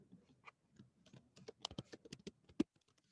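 Quiet typing on a computer keyboard, irregular bursts of key clicks that quicken toward the end, close and alone.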